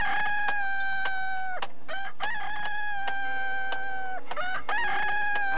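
A giant chicken from the 1984 film The Hoboken Chicken Emergency lets out loud, close, drawn-out squawking calls, a series of wavering cries broken by sharp clicks and short gaps.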